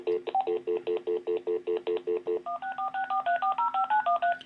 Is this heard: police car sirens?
no